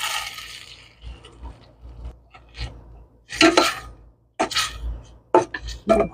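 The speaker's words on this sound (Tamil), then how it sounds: "இப்போ இதில் சிக்கனை சேர்த்துக்கிறோம்." Chicken going into a pot of simmering masala: a scattered run of clinks, scrapes and soft wet thuds of a spoon against metal cookware, with quiet gaps between the bursts and no talk.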